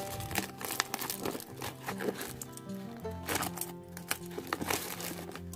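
Bubble wrap packaging crinkles and crackles in close, continuous rustling while a Samsung A8 phone is unboxed, with occasional sharper pops and no speech.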